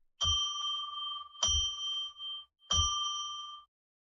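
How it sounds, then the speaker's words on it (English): A small bell is struck three times at even intervals, each ding bright and ringing with a clear tone that sustains and fades before the next strike. Nothing else is heard. "Let's ring a bell 3 times to declare sacred space"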